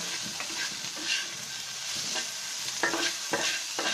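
Steady oil sizzling and crackling in a pan as bottle gourd leaves are stir-fried, with scraping and stirring bursts recurring throughout, close and fairly loud.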